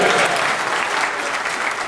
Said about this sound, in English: Can I just ask that we might hold the applause until the end